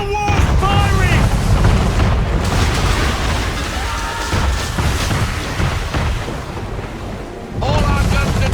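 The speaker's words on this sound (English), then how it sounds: "Man of war firing!" A man-of-war warship fires its cannons at sea in Assassin's Creed 3, heavy booms rolling over ocean and ship noise, with voices calling out between the blasts.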